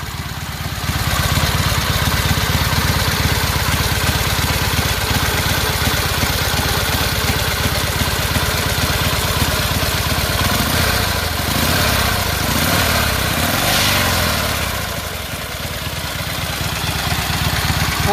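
A 1925 Harley-Davidson JD 1200cc three-speed V-twin motorcycle engine idles steadily and loudly for the whole stretch, a constant throbbing chug close by with no voices.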